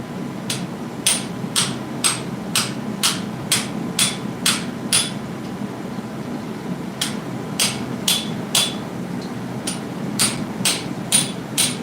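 Sharp metallic hammer strikes of a blacksmith forging a spoon ring out in a steady rhythm, about two per second, in two runs separated by a short pause, over a low background hum.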